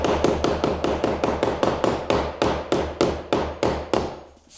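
A rubber mallet taps a wooden block on laminate board in a quick, even series of solid knocks, about fourteen in all, loud and close, fading slightly at the end.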